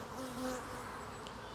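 Honeybees from strong, dark-bee colonies hum steadily around an open hive during an inspection, a close, continuous buzzing drone with no talk.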